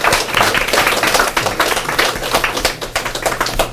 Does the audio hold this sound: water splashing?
no